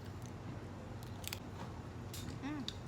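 Someone biting into crunchy fried breadfruit at a backyard Guyanese-style cookout, with a few quiet, sharp crunches over a low background hum and no talking.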